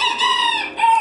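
Close, loud hens cluck on a summer farm with bird-like harmonic calls over a second, and a short pause near the end before a fresh call. No one speaks over them.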